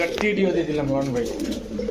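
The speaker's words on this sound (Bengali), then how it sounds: "কাঁচা ঠোঁটের চুইঠাল কবুতর এই যে মাদি এই যে নর" Male and female Chuithal pigeons coo softly and low in a brief, rolling burble, close by, with a voice talking over them.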